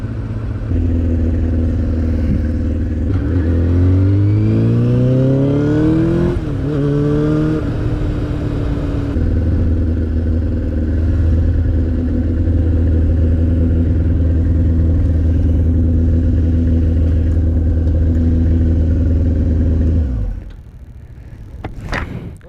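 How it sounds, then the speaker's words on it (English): A motorcycle engine revs hard while being ridden, pitch climbing and dropping through several quick upshifts before settling into a steady loud drone, then cutting off near the end. "I downshift and then I rev it to where I think it needs to be"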